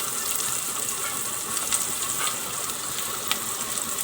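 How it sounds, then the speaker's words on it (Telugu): Curry leaves and thinly sliced onions fry in hot oil in a pan, giving a steady, close, fairly loud sizzle and crackle that holds evenly throughout without talk. "కరివేపాకు, అదేవిధంగా ఉల్లిపాయ ముక్కలు, సన్నగా తరుక్కున్న ఉల్లిపాయ ముక్కలు వేసేసుకుని"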